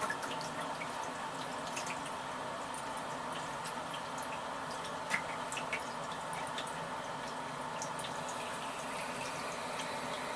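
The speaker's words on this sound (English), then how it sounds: "As you start running the water in there, it'll level out." Tap water runs steadily into the drum of a Wonder Wash washer, a faint, even splashing rush with scattered droplet ticks and no voices.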